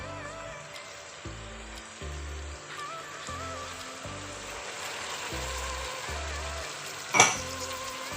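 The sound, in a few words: vegetables sizzling in pan with peri-peri and soy sauce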